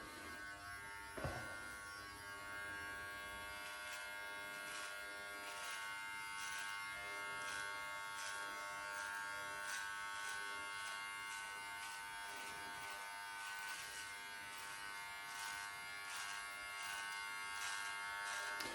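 Brio Beardscape electric beard trimmer running through a beard, a continuous close buzzing hum with small shifts in tone as it moves over the hair, with one brief knock near the start.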